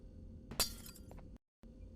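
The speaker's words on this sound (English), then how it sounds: "I recommend breaking the yellow glass over here." Yellow glass pane shattering in the Garten of Banban 2 game, one sharp crash with tinkling fragments trailing off briefly before a short silence.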